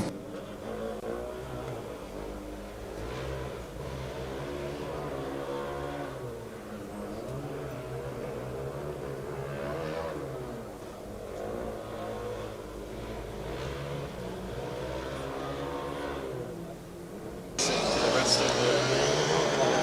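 UAS Karlsruhe driverless Formula Student race car running on the test area, a steady electric-motor whine with rising and falling harmonics, heard under commentators' talk throughout, with a louder burst near the end.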